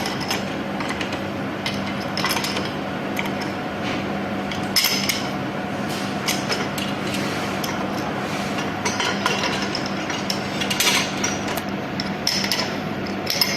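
Bolts are tightened on an 8-inch SS304 stainless steel end cap for hydrostatic pressure testing, giving repeated metallic clinks and taps from tools on steel, scattered irregularly over a steady background hum.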